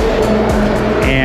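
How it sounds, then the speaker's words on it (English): Cars speed past close by on a busy road with no shoulder along the Via Francigena between Vetralla and Sutri in Italy, a loud continuous rush of engine and tyre noise with overlapping passes. "A lot of cars. The cars provide some wind."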